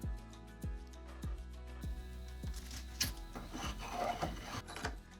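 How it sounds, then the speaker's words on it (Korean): Repeated rhythmic rasping strokes of sandpaper rubbing against a wooden tool handle, close up and moderately quiet, about one stroke per second. "핸들은 이 사포를 이용해서 작업을 해 줄 건데요"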